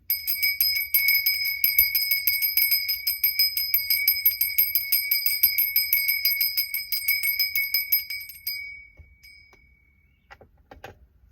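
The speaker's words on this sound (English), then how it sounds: "Let me ring my bell one more time" A small bell rings in a rapid, steady series of bright metallic dings for about eight seconds, close and fairly loud, then stops with a few faint clicks and rustles after.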